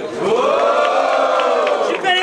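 A crowd at a student rap battle in Guarulhos roars and shouts in one loud, sustained wave of cheering that swells and holds for a couple of seconds.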